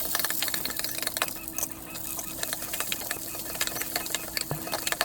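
Garlic and onion frying in oil in a home kitchen before dried fish is cooked, a faint steady sizzle broken by scattered crackles, pops and light stirring clatter, with no talk over it.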